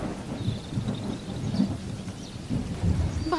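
Rain falling steadily with low rumbling swells like distant thunder, a soft patter throughout and no voices.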